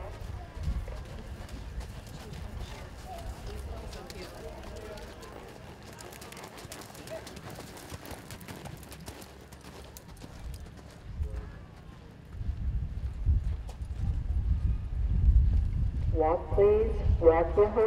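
Horses loping around the arena at a 4-H fair western horse and pony class, a fairly distant, continuous patter of hoofbeats amid open-air ambience and background voices, growing louder and closer near the end.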